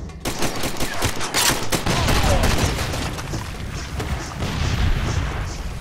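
Dense, continuous gunfire in the video game Far Cry 2, with rapid bursts and booming shots layered together at high volume throughout, no speech over it.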